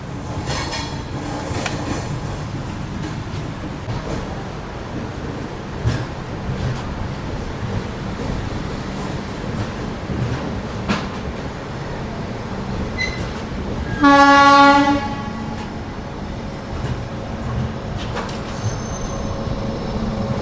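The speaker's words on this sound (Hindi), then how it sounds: "शाम के 4 बजे एकदम अपने निर्धारित समय से अपनी एसी एक्सप्रेस निकल रही है चेन्नई सेंट्रल रेलवे स्टेशन से।" The Chennai–Trivandrum AC Express pulls out of Chennai Central station with a continuous rumble of wheels and carriages. A loud horn blast sounds briefly near the end, with faint squeals and clanks throughout.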